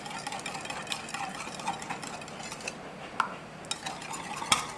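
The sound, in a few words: mixing batter for homemade chicken sandwich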